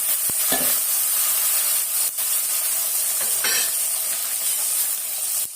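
Chopped onions sizzle and fry in a pan of garlic kuzhambu curry, a steady close hiss with a few brief stirring scrapes and no talking.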